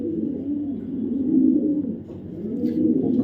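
Racing pigeons coo softly and repeatedly at close range, a low rolling murmur of overlapping calls with no voices.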